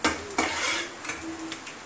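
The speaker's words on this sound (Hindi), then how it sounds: "इसको अच्छे से सौते करेंगे" Bay leaf, asafoetida and cumin sautéing in hot oil for chole, a bright steady sizzle with a couple of spoon knocks and scrapes against the pan, close up and without voices.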